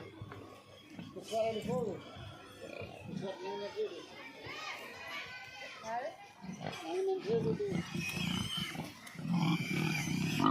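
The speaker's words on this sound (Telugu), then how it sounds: "చిన్న చిన్న పందులు పిల్లలు" Small piglets on a commercial pig farm in India squeal and grunt in high-pitched bursts, close and lively, continuing throughout.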